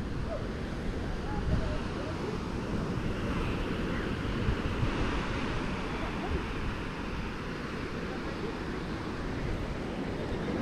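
Ocean waves roll onto a beach in Colombo, Sri Lanka, at sunset, producing a constant, fairly loud surf roar mixed with gusty wind buffeting the microphone.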